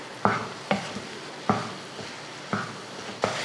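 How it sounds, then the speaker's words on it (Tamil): A ladle stirs and presses potato masala in a pan, giving five sharp scraping knocks at a steady, unhurried rhythm close by, with soft frying sizzle underneath and no talk. "நல்லா நம்ம கரண்டியை வச்சு நல்லா இந்த மாதிரி அமுத்தி கலந்திங்கன்னா"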